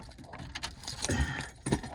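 Keys jangle and clink near a 1948 Chevy hot rod in a workshop, a few brief metallic rattles in close, quiet bursts with handling noises between.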